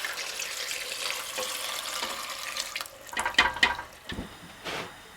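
Water pours into a cooking pot of peppers with spices for quesabirria, starting as a steady splashing stream, then breaking into a few louder gurgling splashes and pauses near the end.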